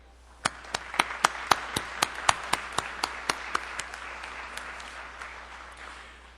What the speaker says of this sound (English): I would like very much to have the graduates join me in a round of applause